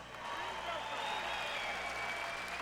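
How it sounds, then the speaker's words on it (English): A boxing arena crowd at a heavyweight bout applauds the two fighters, a distant, steady wash of clapping and crowd noise that holds at an even level. "How about a big round of applause for these two amazing warriors?"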